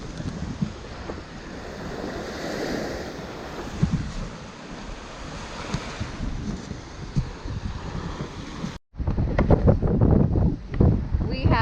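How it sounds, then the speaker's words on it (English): Strong wind of about 22 to 23 knots buffets a sailboat at sea, heavy rushing gusts and wave wash roaring across the microphone, with a brief cut before a louder burst of wind noise. "We have 22, 23 knots right now of wind"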